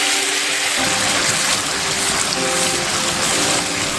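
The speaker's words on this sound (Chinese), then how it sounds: "油烧热后，把豆腐一块一块的下锅" Tofu pieces lowered one at a time into hot oil in a pan: after a brief quieter moment, a loud, rushing hiss of frying bursts in and holds steady to the end, with no talking.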